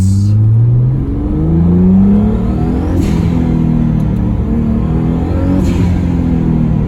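A car with a Tial blow-off valve fitted to its 2JZ engine revs and pulls hard, a loud, steady engine drone rising and falling in pitch, with short airy bursts from the valve on lifts.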